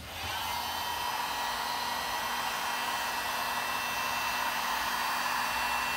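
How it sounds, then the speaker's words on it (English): A cheap Harbor Freight Drill Master heat gun on its high setting blows hot air onto a 2016-17 Honda Accord headlight, a steady, even, continuous whoosh that holds unchanged throughout with no talking. "To heat the headlight up, I'm using the cheapest drill master from Harbor Freight."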